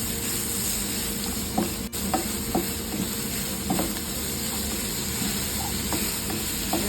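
Spring onion and soya chilli being stirred in a hot pan, a steady frying sizzle broken by several distinct scraping strokes of the spoon at irregular intervals.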